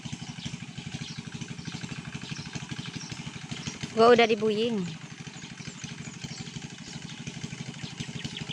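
A diesel-fuelled engine machine runs on a rural farm plot, its rapid, even putt-putt idle steady throughout, briefly interrupted by a short spoken voice partway through.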